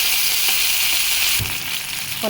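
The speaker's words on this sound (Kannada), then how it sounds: "10 ಕಾಳುಮೆಣಸು, ಒಂದು ಏಲಕ್ಕಿ, ಇವೆಲ್ಲವನ್ನು ಹಾಕ್ಕೊಂಡು ಚೆನ್ನಾಗಿ ಫ್ರೈ" Peppercorns, cardamom, fresh ginger and coriander fry in a pan for masala puri with a loud, continuous hissing sizzle and a soft knock partway through.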